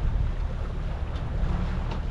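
Steady wind noise buffets the microphone on a small fishing boat at sea off Cyprus, a constant low rumble with faint water wash and no voices.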